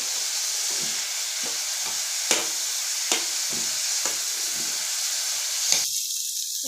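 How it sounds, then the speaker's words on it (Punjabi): Chopped garlic and onions fry steadily in a pan for eggplant bharta, giving a continuous sizzle broken by several soft stirring scrapes before the hiss drops off near the end. "ਹੁਣ ਆਪਾਂ ਇਹਦੇ ਵਿੱਚ ਬਰੀਕ ਕੱਟਿਆ ਹੋਇਆ ਲਸਣ ਜਿਹੜਾ ਉਹ ਵੀ ਆਪਾਂ ਪਾ ਦੇਣਾ ਹੈ ਇਹਨਾਂ ਨੂੰ ਚੰਗੀ ਤਰ੍ਹਾਂ ਆਪਾਂ ਦੋਨਾਂ ਚੀਜ਼ਾਂ ਨੂੰ ਭੁੰਨ ਲਵਾਂਗੇ"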